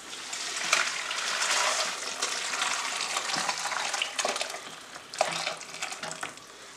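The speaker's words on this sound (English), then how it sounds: "now I'm going to be draining this broth into this pan" Chicken broth drains and pours into a pan, a loud, continuous close rush and splash of liquid with a few brief surges in flow.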